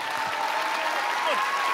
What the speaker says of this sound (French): applaudissez la technologie non, quand même.